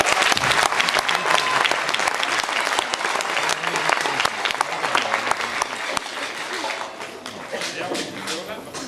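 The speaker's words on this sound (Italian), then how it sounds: "un altro applauso" Loud, dense applause from a crowd at a live show fills the space, with many hands clapping vigorously before slowly thinning out.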